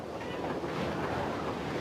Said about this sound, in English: As the ship is swallowed by the ocean, it creates a whirlpool that pulls several of the helpless men under.